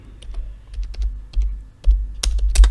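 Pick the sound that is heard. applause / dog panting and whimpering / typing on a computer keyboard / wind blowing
typing on a computer keyboard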